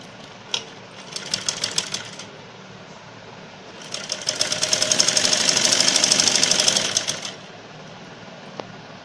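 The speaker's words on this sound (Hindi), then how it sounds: "ये देखिए पट्टी मैंने सिल दिया" A sewing machine stitches a strip of fabric for a cut-sleeve short kurti. A brief run of rapid needle clatter comes first, then a longer, louder steady run that speeds up and slows down, close and clear.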